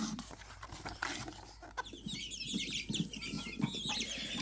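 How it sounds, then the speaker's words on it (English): Chickens cluck and fuss from an Easter-themed sound book, a short burst of hen clucks and squawks played fairly faintly with no talking over it. "Happy Easter, chickens!"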